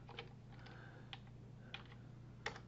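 Quiet keystrokes on a computer keyboard while entering Python code, a few scattered clicks with sharper taps near the end over a low steady hum, no speech.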